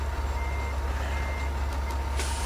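A Kamaz 5410 truck in Euro Truck Simulator 2 backs up under a trailer, its reversing alarm beeping steadily over a loud, low diesel idle, with a short burst of hiss near the end.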